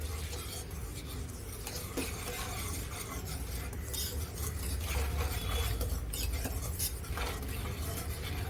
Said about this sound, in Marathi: एक वाटी मिल्क पावडर एक वाटी काजू पावडर हे सगळं आपल्याला व्यवस्थित मिक्स करून घ्यायचं आहे